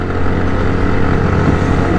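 A motorcycle labours up a steep hill road toward Gorakh Hills Station in second gear, with a loud, close, continuous engine roar and no talking.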